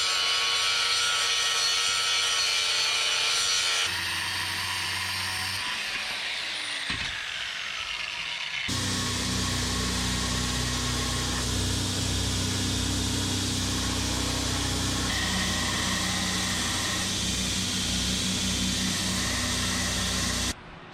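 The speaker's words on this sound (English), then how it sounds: "grind off two sides of each of these twist billets" An angle grinder runs continuously and loudly against twisted billets of 52100 high-carbon steel for Damascus, grinding off their sides, with the whine shifting in pitch as the load changes.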